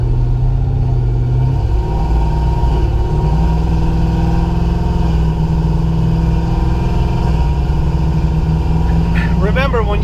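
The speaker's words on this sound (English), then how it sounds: "If you want something that's loud and obnoxious and pretentious, then this is a pretty cool Jeep." A loud cammed V8 in a Jeep Wrangler JK rumbles at a steady lopey idle, close and continuous throughout, with someone talking over it.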